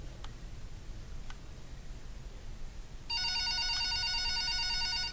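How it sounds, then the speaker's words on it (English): An office telephone rings with a bright electronic trill that starts partway through and keeps sounding steadily, preceded by faint ticks over a low background hiss. "Office telephone ringing."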